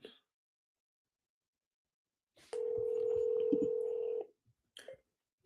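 A telephone call placed to a seller, a steady electronic ringback tone lasting about two seconds, preceded and followed by brief clicks and faint fragments of a voice on the line.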